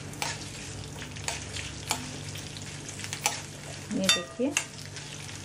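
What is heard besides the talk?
ingredients cooking in a pan on slow flame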